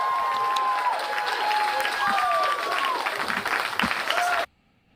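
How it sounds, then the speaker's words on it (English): Applause and scattered cheering from a crowd in a moon-landing mission control room, steady clapping with whoops and whistles rising over it, before cutting off abruptly. "a little bit of cheering here and there"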